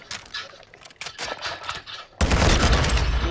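Pistol shots in the Call of Duty: Modern Warfare II shooter game, a handful of sharp snapping reports in quick succession followed by a louder, dense burst of gunfire and noise, close and loud.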